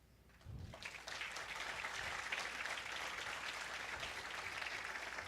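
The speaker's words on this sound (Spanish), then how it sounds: "les pido un fuerte aplauso, no solo para nuestros ponentes, sino para todos nosotros" After a brief quiet moment, an audience at a politics and government debate breaks into sustained, even applause for the speakers and themselves, lasting to the end.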